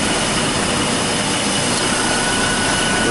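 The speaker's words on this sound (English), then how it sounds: "when that AC compressor is running, you got suction" A car AC compressor runs with a loud, steady mechanical roar and hiss, close up and unbroken for a few seconds, with no talking.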